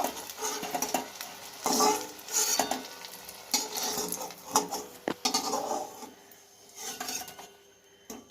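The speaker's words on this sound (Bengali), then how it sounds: "একটু লাল লাল করে এই বেগুনটা ভেজে নেব" Eggplant sizzles in hot oil with a steady crackle, broken by repeated scraping and stirring sounds from a spatula against the pan.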